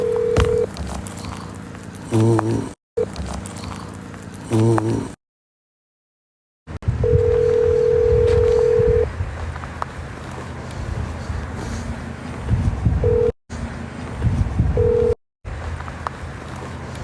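An outgoing phone call being placed: short electronic tones and beeps separated by gaps of silence, then a long ringback-style tone, heard close over a faint background hiss with no talking.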